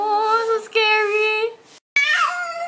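A male cat yowls during a cat fight, drawn-out harmonic wails rising and falling in several loud, close bursts separated by a brief silence.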